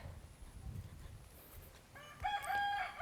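A rooster crows loudly near the end, preceded by faint clucking and quiet background rustle, in a village in Fiji.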